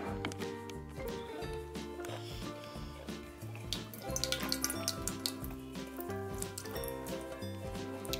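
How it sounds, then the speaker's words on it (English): Water is poured onto a plate of M&Ms, giving a light trickling and dripping patter at low volume, with faint background sounds. "So now the water is poured."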